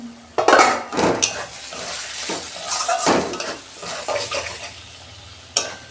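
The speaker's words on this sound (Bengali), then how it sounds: "5 মিনিট ঢাকা দিচ্ছি, ঢাকনা খুলছি" A metal lid lifts off a pot of simmering ridge gourd, with a sharp clank followed by scraping, clattering stirring and a soft sizzle, and a final knock near the end.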